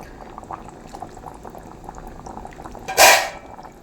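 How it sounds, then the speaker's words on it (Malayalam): Fish head curry simmers in a pot, gravy bubbling steadily, and near the end one short splashy pour is spooned over the fish head, close and moderately loud. "ഞാനിങ്ങനെ ഇടയ്ക്കിടയ്ക്ക് ഇതുപോലെ ഗ്രേവി ഓരി തലയിൽ ഇങ്ങനെ ഒഴിച്ചു കൊടുക്കുന്നുണ്ട്"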